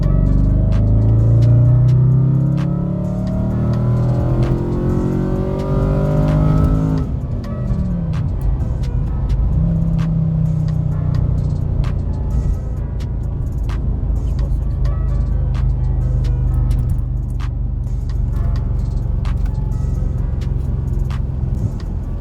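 An Audi RS4 engine roars steadily and loud, its pitch climbing and then dropping at a shift into third gear before settling into a sustained low drone.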